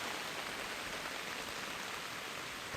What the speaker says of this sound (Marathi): वसई विरार शहरामध्ये सकाळपासूनच मान्सून पूर्व पावसानं जोरदार विजेच्या गडगडासह हजेरी लावलेली आहे